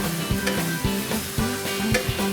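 Pad thai with crushed peanuts is tossed and stirred in a hot pan, giving a steady sizzle with rhythmic scraping and clanking strokes every half second or so, close and fairly loud, no talking.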